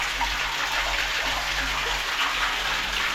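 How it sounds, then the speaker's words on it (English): York Spring water in Lancaster County gushes steadily out of the ground, a dense, continuous close-up rush with no break and no voices. "Gushing. Absolutely gushing."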